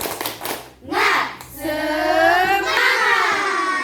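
A fifth-grade class of children in a classroom claps together in a quick rhythmic pattern, loud and close, with voices mixed in as the clapping swells.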